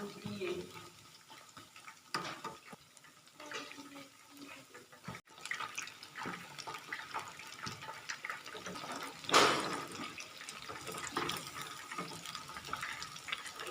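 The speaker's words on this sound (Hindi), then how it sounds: "फिल वक्त हम इसको 7-8 मिनट के लिए फ्राई कर रहे हैं।" Pieces of chicken boti frying quietly in oil, a soft low crackle with faint scrapes and a few sharper clinks, near but gentle throughout.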